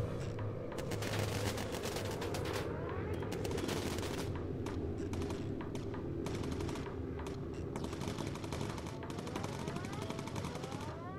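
Continuous machine-gun fire from shooting in the Plane Crew video game, dense and rattling bursts running without pause under a steady rumble of engine noise.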